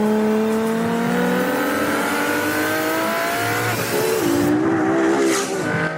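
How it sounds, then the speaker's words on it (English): A supercar engine revs hard and climbs in pitch, a loud, close, sustained howl with a brief dip as it shifts before rising again, in Argentina. "What a supercar should sound like."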